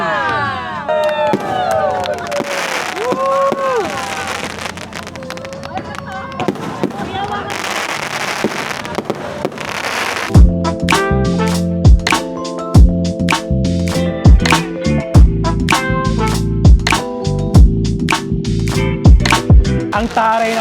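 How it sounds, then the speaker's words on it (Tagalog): Fireworks at a wedding crackle and boom in rapid, repeated bursts, loud and near, following a stretch of excited voices, crowd noise and a countdown. "Ang taray ng fireworks"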